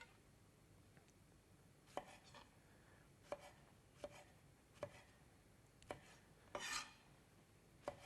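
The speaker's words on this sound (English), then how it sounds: "These are quite large ones, so I'm cutting them into 8 or 4 each half." A knife cuts large cherry tomatoes on a board, producing about half a dozen quiet, evenly spaced chops with faint scrapes between them, soft and close with no talk.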